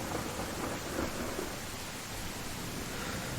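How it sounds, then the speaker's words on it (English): A thunderstorm in the Viking village-building game Land of the Vikings brings steady, dense rain hiss with a low rumbling undertone, continuous and fairly loud with no voices. "the storm has passed"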